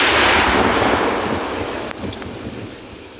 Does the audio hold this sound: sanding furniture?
no